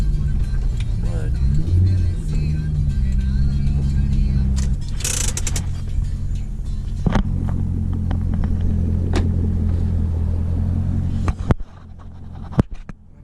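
A C6 Corvette drives through El Paso on a rainy day, its engine a deep steady rumble with brief revving near the start, a sharp interior scrape midway, and the drone cutting off near the end; a person talks over it.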